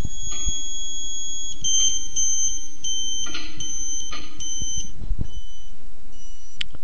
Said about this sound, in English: Move the elevation adjustment bolt until you hear the beeper tone drop.